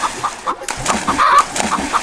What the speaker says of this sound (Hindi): लल्लू मुर्गी को तालाब में डुबकी लगवाने लगता है